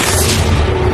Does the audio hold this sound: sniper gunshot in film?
yes